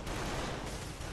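Turret gunfire from Bloodborne's Old Hunters expansion, a dense, continuous barrage of loud overlapping shots filling the whole moment with no gaps.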